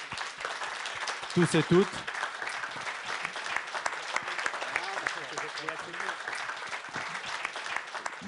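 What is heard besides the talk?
audience applause at a conference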